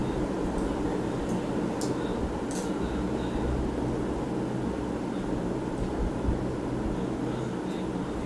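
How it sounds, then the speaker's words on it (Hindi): A room fan runs steadily as a dense, even whoosh of moving air, loud and constant across the whole stretch with no pauses and no clear voices over it. "पंखा थोड़ा बंद कर देते हैं, आवाज़ सुनते हैं।"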